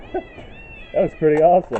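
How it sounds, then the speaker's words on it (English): Peacocks give high, wailing calls in the background, with several drawn-out cries after a short spoken comment from a man. "Listen to the peacocks in the background."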